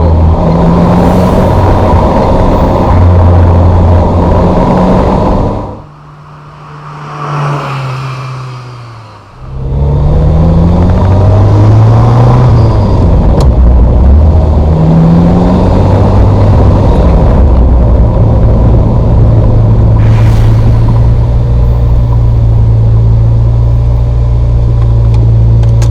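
A Ferrari 348 engine revs loudly and close by, climbing and dropping in pitch through several gear changes, with a brief dip in sound partway through before the engine pulls strongly again.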